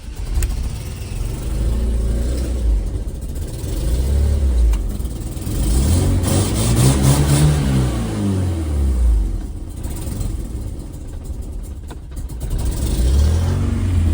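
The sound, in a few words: E36 BMW engine cranking, starting and revving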